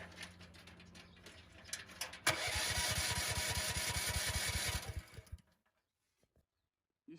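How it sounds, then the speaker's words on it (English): A Briggs & Stratton 13 hp engine on a Chinese mini excavator with a starting fault cranks in a loud, rapid, rhythmic chug for about three seconds, then cuts off into near silence. "Now I'm gonna turn the engine."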